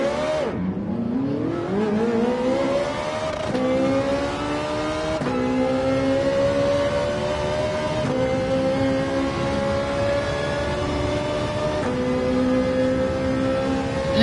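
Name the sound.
car engine hammering in Gran Turismo 7 video game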